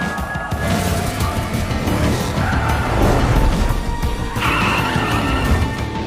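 A car driven recklessly, its tires screeching in long skids over a constant engine roar, loud and sustained, with a sharper squeal late on.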